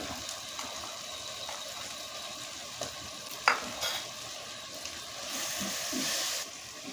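Spoon stirring chilli powder, turmeric, chicken masala and salt through a frying pan, with soft scraping and clicks over a steady low sizzle and one sharp knock near the middle.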